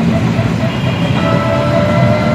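A Delhi Metro train rumbles along, a continuous low roar with a faint electric whine rising partway through, heard from inside at close range.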